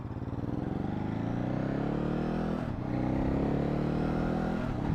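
Engine of a 2019 Ducati Hypermotard motorcycle while riding, a loud steady harmonic drone that rises in pitch with a brief dip near three seconds before pulling strongly again, with no talk.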